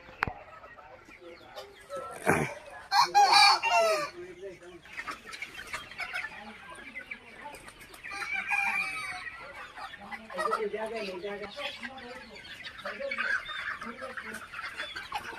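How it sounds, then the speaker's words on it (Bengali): Native Bangladeshi deshi chickens cluck and squawk close by in bursts, with a loud flurry early on and more clucking later, mixed with background voices. "অরিজিনাল পিওর দেশি মুরগি।"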